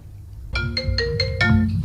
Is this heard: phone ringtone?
yes